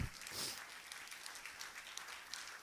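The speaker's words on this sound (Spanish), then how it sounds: "Un aplauso al chef." An audience claps for a chef at a church gathering, a faint, distant patter of applause throughout with no voices over it.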